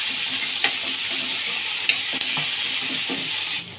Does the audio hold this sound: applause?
no